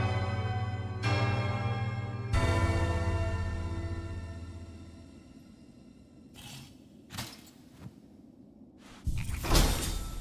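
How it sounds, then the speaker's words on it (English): A Citadel bell rings in Hollow Knight: Silksong, sounding as sustained tonal peals with long ringing decay over the first half, then scattered metallic clanks and bursts toward the end; no voices. "we can ring the final Citadel bell to gain access to the Citadel through the Blasted Steps"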